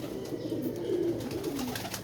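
A Lakha pigeon, a flying breed, coos close by in a few soft, low, rolling phrases that run on steadily with no talk over them.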